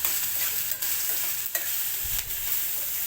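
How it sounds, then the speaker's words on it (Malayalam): Ash gourd peel stir-fry being stirred in a clay pot: a steady hiss of frying with a few sharp scrapes of the spoon against the pot at roughly even intervals, close and alone. "നല്ലപോലെ ഒന്ന് ഇളക്കി കൊടുക്കുക"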